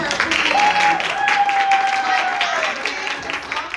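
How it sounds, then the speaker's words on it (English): An audience at a women's panel event applauds in a steady, full round of clapping, with a cheer or voice rising above it. "Can we give a round of applause for her, please?"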